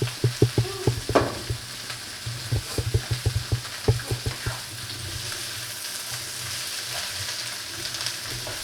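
Chicken stir-frying in olive oil for honey sriracha chicken with lo mein, with loud sizzling and a run of quick scraping stirs up front that give way to a steady hiss.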